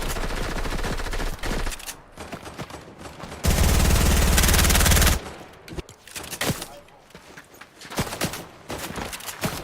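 Bursts of automatic gunfire in an online shooter video game, loud and dense, with rapid volleys and a sustained heavy stretch of firing near the middle, plus scattered shots around it.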